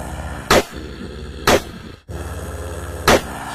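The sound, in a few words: revolver gunshots fired at a tent in an animation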